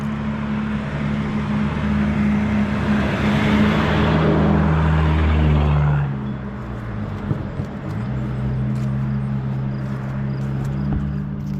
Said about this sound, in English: I hear tires from a truck. Yep. It's a big truck.